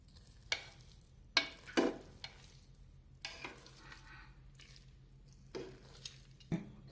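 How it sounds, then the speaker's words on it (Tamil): Cooked coriander biryani rice gently turned in a pressure cooker with a ladle, giving a handful of soft, spaced scraping strokes and light clatters against a quiet background. "இப்போது லைட்டாக பெரட்டி போடலாம்"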